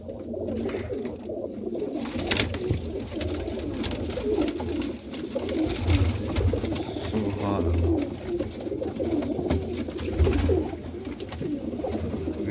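Pigeons coo repeatedly in soft, rolling calls with a steady rhythm, close by and moderately loud, over a busy background of other birds and faint voices.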